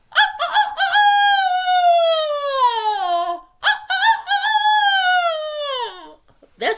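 A human voice imitates a rooster crowing cock-a-doodle-doo, delivering two long, loud, close crows one after the other, each rising and then trailing off, with a short gap between them.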